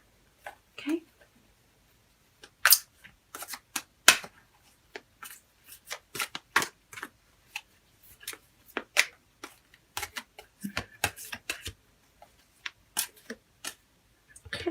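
Tarot cards being shuffled and drawn during a love reading, giving scattered soft riffles, flicks and taps close by, with irregular pauses and no voice.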